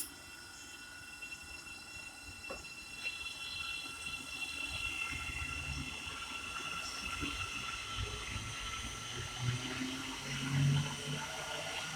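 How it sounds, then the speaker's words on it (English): A Great Northern train pulls away from the platform at Welham Green station on the East Coast Main Line, giving a steady low rumble with faint wheel and rail noise. It carries on evenly throughout, with no talking over it. "ready to depart now will be the 1330 Great Northern service to Welham City"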